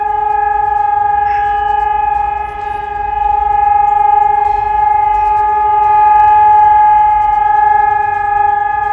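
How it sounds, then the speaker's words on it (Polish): A steady, loud civil defense alarm siren wails continuously, holding a sustained tone with a slight dip partway through, heard alone without voices. "rozległ się dźwięk syren alarmowych"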